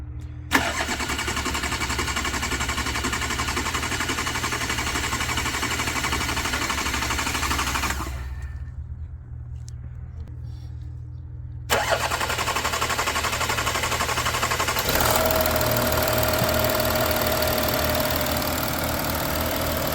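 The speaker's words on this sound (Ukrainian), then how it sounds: "машина завелась з другого разу" A VAG 3.0 TDI diesel car engine cranks and catches, runs steadily, cuts out briefly, then starts again and settles into a loud, constant idle close by.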